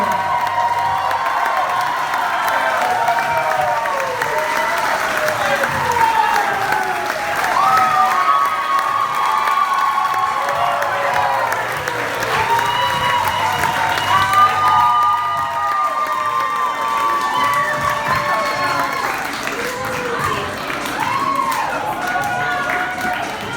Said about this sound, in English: Scream as loud as you can for your bride and groom.